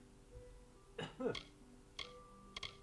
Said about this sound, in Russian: Что ты кашляешь?